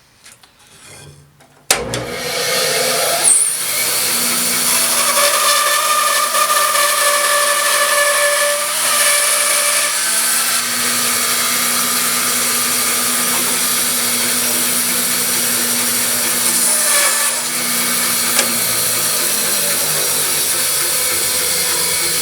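A power saw cuts through wood to make wedge material, running as a loud, steady, continuous rasping whine for about twenty seconds after a quiet start, with only slight changes in tone as the blade follows the line.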